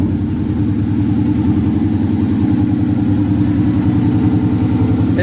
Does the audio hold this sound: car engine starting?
yes